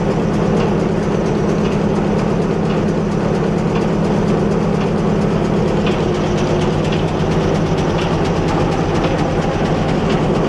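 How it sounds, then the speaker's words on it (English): Steam engine powering a belt-driven sawmill, beside a riveted boiler, producing a loud, steady, continuous mechanical rumble with a low drone and faint rhythmic chuffing throughout, with no voices. "the steam engine here that's running the sawmill"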